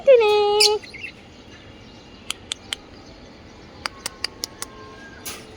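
Tailorbirds give short, sharp chirps nearby, first singly and then in a quick series of high ticks against a quiet background. A brief, louder tonal call comes at the start.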